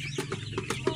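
Chickens at a breeder farm cluck in short repeated bursts over a low steady hum, close and moderately loud, with several birds overlapping.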